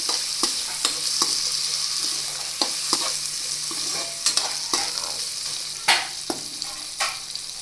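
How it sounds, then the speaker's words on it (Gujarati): Carrots cook in a pan for a Gujarati carrot and chilli relish, giving a steady close sizzle broken by irregular scraping clicks as a spoon stirs them, with no talk. "હવે આપણે ગાજરને થોડી વાર માટે ચડવા દઈશું"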